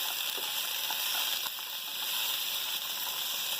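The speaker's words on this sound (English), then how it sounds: "You should hear it start to cook when it hits the pan" Food for a loaded lasagna, seasoned with a little salt, sizzles steadily in a pan with a continuous crackling hiss that stays even and fairly close throughout, with no voices over it.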